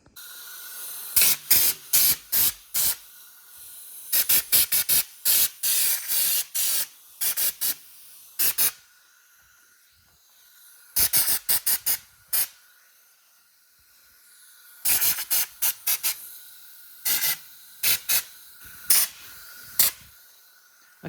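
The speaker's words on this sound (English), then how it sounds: "And now it's basically just cover them in some underbody seal." Aerosol underbody seal sprayed onto the etch-primed welded chassis of a neglected Land Rover Defender 90, heard as a series of short, close hissing bursts in quick clusters separated by quiet pauses, with no talking.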